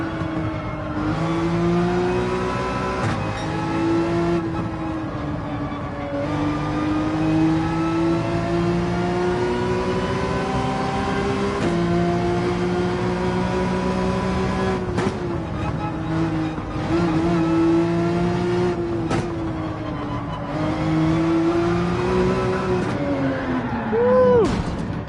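Porsche 911 race car engine in Gran Turismo 7, a steady droning tone that rises and falls through gear changes and throttle lifts for the whole stretch, with someone talking over it.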